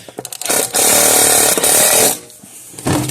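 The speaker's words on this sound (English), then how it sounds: "Put drill bit in there, or my Phillips bit in there. Chuck it down. Put the screws to it." Power drill fitted with a Phillips bit driving screws while reassembling an electric fence charger, heard as a loud sustained whir, easing off briefly mid-burst, then a short final spin-up after a pause.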